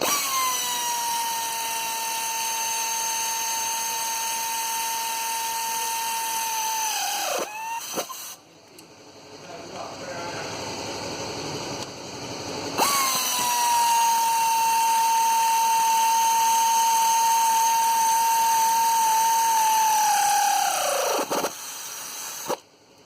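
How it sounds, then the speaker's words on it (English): A pneumatic air ratchet runs up the three mounting bracket bolts on a 2007 Fiat Grande Punto during clutch and gearbox work, giving two long loud whirring bursts that wind down sharply as each bolt seats, separated by a short gap. "So I've just done it with the air ratchet"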